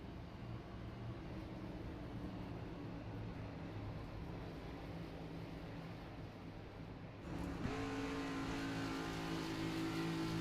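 Race cars in the CART video game idle with a steady, low engine drone, then rev and accelerate together near the end as the field gets underway, pitch rising sharply.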